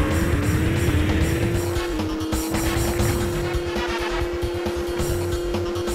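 Race cars in the PS2 racing game Gadget Racers roar continuously with a steady, rising engine whine, occasional tire squeal underneath, loud and close throughout.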